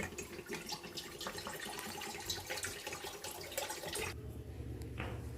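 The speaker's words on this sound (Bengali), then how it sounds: "আমি একটা কড়াইতে আমি আমটা সিদ্ধ করে নেব তার জন্য দিয়েছি কড়াইতে জল" Water poured into a wok to boil raw mangoes for pickle, a steady splashing pour that runs for about four seconds before stopping, leaving a lower continuous hum.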